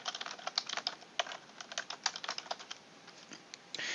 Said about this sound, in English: We can type in a little bit of a description